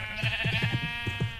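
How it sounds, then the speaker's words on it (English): Sheep in a pen in Minecraft bleat in a rapid series of short, nasal calls, fairly close and clear over a faint steady hum. "And over here is a sheep pen."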